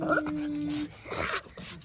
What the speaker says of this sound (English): This is my other doggy, the nicer one, and this is the crazy one.